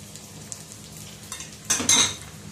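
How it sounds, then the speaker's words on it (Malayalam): Cauliflower pieces (gobi) dropped into very hot oil over a high flame, a quiet bubbling hiss that bursts into a loud sizzling crackle near the end, with a few metallic utensil clinks before it. "ഹൈ ഫ്ലെയിം ആക്കിയിട്ട് ഈ ഗോബി എല്ലാം കൂടെ ഒന്നിച്ചിട്ടിട്ട് ഒന്നുകൂടെ ഒന്ന് നല്ലതുപോലെ ക്രിസ്പി ആയിട്ട് വറുത്തെടുക്കണം"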